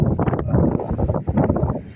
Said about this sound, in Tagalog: pasensya na kayo sa sounds kung medyo maingay kasi napakalakas ng hangin dito